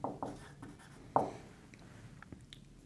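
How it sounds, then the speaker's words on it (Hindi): Handwriting on paper while a table is drawn up for a school computer lesson, a few quiet scratching pen strokes and small taps, close and soft, with no talking. "यहाँ मैं लिख रहा हूँ सेक्शन"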